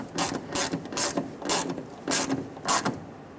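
A ratchet tightens a hose clamp on the fuel filler neck of a Ford E-350 Super Duty van, giving about seven clicking bursts in a steady, close rhythm with no talking.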